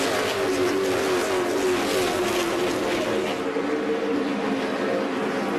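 Race trucks roaring around the dirt half-mile of Eldora Speedway two and three wide, a loud continuous engine drone with shifting pitch as the pack passes, no talk over it.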